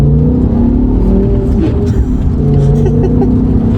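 A BMW M5 E60 fitted with a Sprint Booster V3 in race mode accelerates hard, its engine roaring loud and close in a sustained, rising pull with no talk over it.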